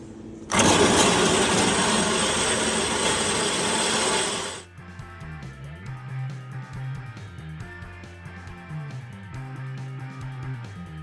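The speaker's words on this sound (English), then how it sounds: "I'm just going to cut it to size using a bandsaw" A bandsaw cuts through steel box section for a Porsche 911/912 engine mount platform, giving a loud, harsh, steady grinding roar for about four seconds. It then drops to a lower motor hum with uneven bumps.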